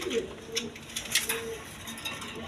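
Pigeons coo softly in short, repeated calls, with faint clinks and murmuring voices in the background.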